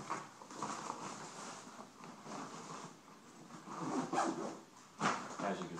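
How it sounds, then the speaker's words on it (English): A 5.11 Tactical Rush 72 backpack gets zipped up in a few rasping pulls of varying length, with rustling fabric between and a loud pull near the end. "I'm going to zip it up."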